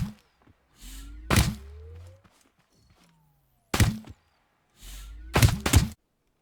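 Auto turret guns in the Scrap Mechanic building game fire in short sharp bursts, with a pair of quick thuds followed by a pause and then another cluster of shots, all fairly close and with no talking.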